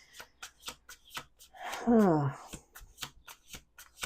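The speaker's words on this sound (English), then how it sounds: "Last shuffle." Tarot cards are shuffled in a brisk, even rhythm of soft riffling slaps, close and fairly quiet, with a short voice in the middle.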